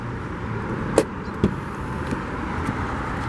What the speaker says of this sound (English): Grab the door handle to unlock, mirrors will power fold out, and touch the door handle to lock.